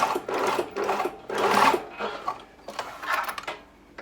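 A sewing machine stitches a label onto fabric in short runs, its needle clattering rapidly and close, with brief pauses between bursts as the work pivots.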